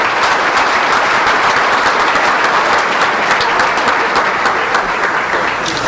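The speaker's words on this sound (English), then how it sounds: "Can we have another big round of applause for our Scholar Athlete class of 2009?" Sustained applause fills a banquet hall at a scholar-athlete luncheon honoring a high school class, steady dense clapping that stays loud and even throughout with no voices over it.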